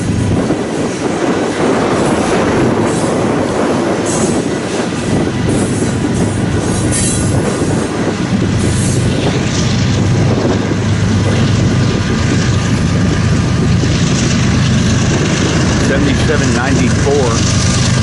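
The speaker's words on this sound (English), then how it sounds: "here comes our mid-train DPU" Freight train rolling steadily past at close range with a mid-train DPU locomotive, a Conrail unit on a New York Central bottom, dense continuous wheel rumble and rail noise with occasional squeals, talk faintly underneath.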